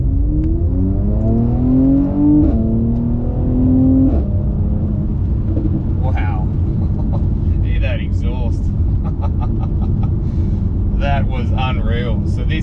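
A 2020 Mercedes-Benz C43 AMG accelerating hard from a standing start, engine rumble climbing through a rising rev sweep, a gear change, then a steady drone as a voice talks over it.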